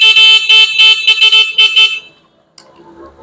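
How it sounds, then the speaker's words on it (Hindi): A Honda 125 motorcycle's original Honda horn beeps in a rapid series of short, loud honks, then stops, leaving quiet background noise. "इसका जो होंडा का ओरिजिनल हार्न आता है वही इंस्टॉल किया है"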